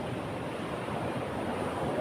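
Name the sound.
ocean waves hitting the shore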